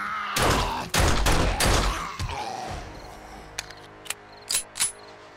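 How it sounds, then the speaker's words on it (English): Pistol fire in the zombie survival game 7 Days to Die: a quick run of sharp, loud shots in the first two seconds, followed by a few scattered lighter impacts and clicks. "Let's use our pistol."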